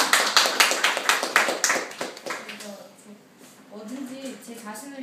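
An audience claps in a quick, regular burst for about two seconds in the middle of a talk, the clapping fading out as a speaker's voice resumes.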